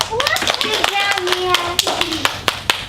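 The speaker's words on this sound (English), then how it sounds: "Let's give my volunteer a round of applause." A classroom audience claps for a volunteer with scattered, uneven claps, while a voice and other speech carry over the clapping.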